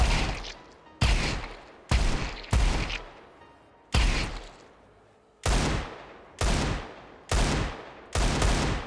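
Automatic gunfire from a triggerbot in Counter-Strike 2 rips out as sharp, loud shots about once a second, each cracking hard and then tailing off, with one longer gap before the shots resume.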